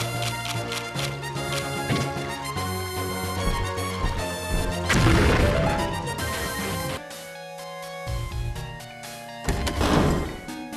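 Bombs blast a breakable wall in the video game 3D Dot Game Heroes, two loud explosive crashes a few seconds apart over busy, continuous game music.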